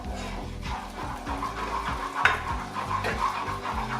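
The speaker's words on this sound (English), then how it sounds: "In it goes all at once, and stir." Flour being stirred into sizzling profiterole choux mixture in a pan, a steady scraping stir over a soft continuous sizzle, close and moderately quiet, with one brief sharp clink of the utensil against the pan partway through.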